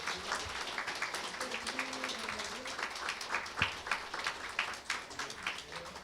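Applause from an audience at a Jongno District Office staff meeting in Seoul, steady dense clapping across the whole stretch with a brief louder burst midway, a faint low voice murmuring underneath.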